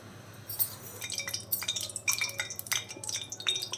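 Kadai (wok) set on a stove for butter chicken, giving a string of light metallic clinks and clatters, several sharp taps at close range over a quiet background.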